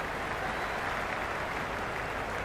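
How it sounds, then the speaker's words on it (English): Stadium crowd cheering in the Cricket 26 video game on PS5 during an RCB vs KKR match, a dense, steady roar of applause and crowd noise filling the whole stretch without letup. "already the crowd making a hell of a racket"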